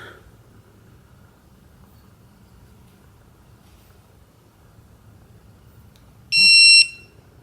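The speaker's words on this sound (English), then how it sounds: "I'm using my snap-on torque wrench, digital torque wrench, and I'm going to torque them to 60 foot-pounds." Snap-on digital torque wrench giving one short, sharp electronic beep near the end while ARP main bolts on a 1998 Talon TSi bottom end are torqued to 60 foot-pounds, after a quiet stretch.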